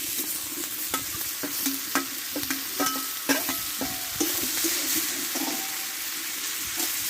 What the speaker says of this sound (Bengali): মশলাটা ভালো করে কষে নেব একটু সামান্য জল দেবো কষে রাখা সবজিগুলো আমি দিয়ে দেবো